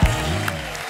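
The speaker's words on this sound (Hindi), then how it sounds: "प्लीज इस खतरनाक टीम के लिए जोरदार तालियां हो जाएं।" Audience applause for the Gangs of Wasseypur film team on a comedy-show stage: about a second of dense clapping with a low thump at the start, then a steady wash of hand claps with no speech.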